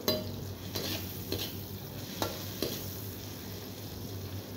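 Vegetables stir-fried briefly in a pan with a little cumin powder give a soft continuous sizzle, broken by several sharp spatula strikes and scrapes against the pan, fairly quiet and close, without speech.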